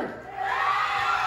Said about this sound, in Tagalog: Palakpakan at hiyawan para kay candidate number 3.